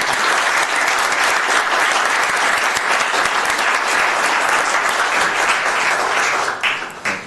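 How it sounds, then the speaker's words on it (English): Attendees at a Glendale city council meeting break into a full round of applause honoring youth coaches and directors, a thick, even wash of clapping that holds for several seconds, then thins near the end. "let's have a great round of applause for everyone"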